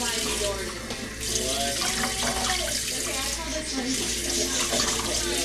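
Steady running water from a tap pours continuously while a small Mi-Ki puppy is rinsed during its first bath in a sink, with a person talking softly over the flow throughout.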